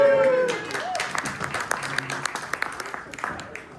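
An audience at a Sunday-night panel event applauds, with dense clapping that gradually thins into scattered, individual claps, near and steady, with faint talk underneath.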